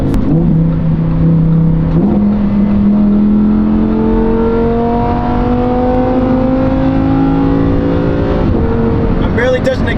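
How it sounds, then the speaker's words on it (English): Lamborghini Huracan V10 engine cruising on a highway under light throttle, a steady close drone whose pitch slowly climbs as the car gathers speed, with road roar beneath. "I just want you guys to hear the V10."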